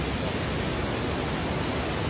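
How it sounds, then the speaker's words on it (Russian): A full-flowing waterfall at Lake Teletskoye, swollen with meltwater, roars as a dense, steady, unbroken wash of noise close by. "Водопад всегда красив. Сегодня он такой полноводный"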